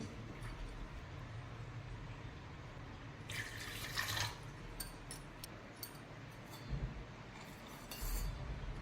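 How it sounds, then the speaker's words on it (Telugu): Water splashes and trickles into a metal pressure cooker in a few short bursts, with light clinks of the vessel between pours; fairly quiet and close. "ఈ కుక్కర్లో వేసుకోవాలి మనం ఏ కప్ తోటి అయితే పప్పు తీసుకొని నానబెట్టుకున్నామో అదే కప్ తోటి కప్పు బావు నుంచి కప్పున్నర వాటర్ పోసుకోవాలండి"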